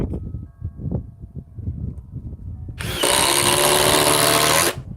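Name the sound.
cordless power tool running on 8 amp power pack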